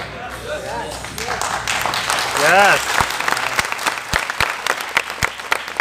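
An audience at a motivational talk claps under someone speaking Hindi, with a brief swell of applause in the middle followed by sparse, sharp individual claps.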